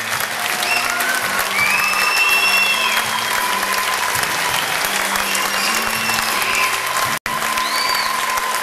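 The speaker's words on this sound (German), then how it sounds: "einen riesen Applaus" Sustained applause from a large audience, steady and full, with faint whistles and cheering threaded through before a brief cut near the end.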